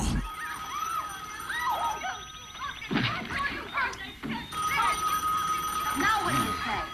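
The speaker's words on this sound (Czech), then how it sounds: "Lenci, zvoní telefon!" A telephone rings repeatedly in the background, fairly faint, while people talk and move around in a room.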